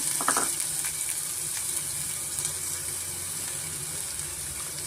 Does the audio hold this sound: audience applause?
no